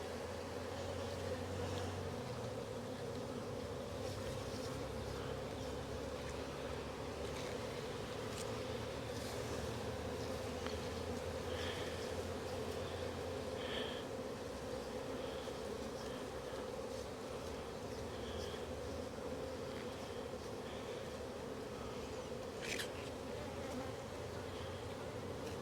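Honey bees hum in a dense continuous drone around a 6-inch grafting frame pulled from a queenless cell-builder hive, close and steady throughout, with a few faint clicks and knocks on top.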